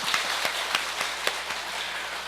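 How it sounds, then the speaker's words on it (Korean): Church congregation applauding during a Sunday service, a soft, moderately dense patter of clapping with several sharper claps standing out, heard at some distance and without talk. "우리 성도들 박수 한번 쳐주세요."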